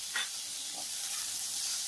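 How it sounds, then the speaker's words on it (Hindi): Tomatoes and green onion frying with salt in a pan, a steady close sizzle and hiss with a faint stir sound near the start. "1 मिनट भूनने के बाद"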